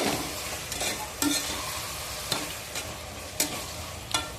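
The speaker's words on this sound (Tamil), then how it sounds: "நல்லா வதங்க விடுவோம்." Chopped bottle gourd sautéing in a pan with a little turmeric for a spicy kuzhambu, giving a soft continuous sizzle broken by several sharp spoon scrapes and taps at irregular intervals, close by.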